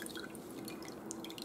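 Whey dripping steadily from fresh homemade cheese wrapped in cloth to drain, with scattered small, faint drops falling over a low, even background hum.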